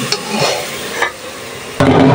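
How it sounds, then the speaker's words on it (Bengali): Biryani spices with sour yogurt frying and being stirred in a pressure cooker, a loud sizzle with scraping stirs that swells sharply near the end. "মশলাটা একটু কষায় নিই।"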